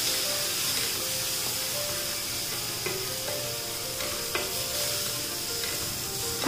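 Dry spices for Punjabi-style rajma masala cook with a splash of water in a pan, giving a steady, close sizzle with occasional stirring scrapes and small clicks throughout, no voices.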